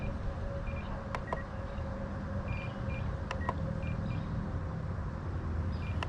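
A handheld radio transmitter for an Omphobby M1 RC helicopter gives a series of short electronic beeps and clicks while its timer is set, over a steady background hum.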